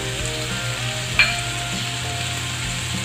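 Chopped bell pepper and finely cut beans fry in a pan for street-style tawa pulao, with a loud, continuous hissing sizzle close up and one brief clink partway through.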